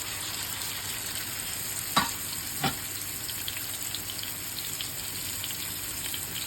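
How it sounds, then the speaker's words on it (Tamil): Dubai Vanjaram fish frying in coconut oil gives a steady, close, dense sizzle throughout, broken by two brief clinks or stirring knocks early on. "தேங்காய் எண்ணெயில் பொரிக்கும் போது அது கொஞ்சம் நல்ல டேஸ்ட் எக்ஸ்ட்ராவாக இருக்கும்"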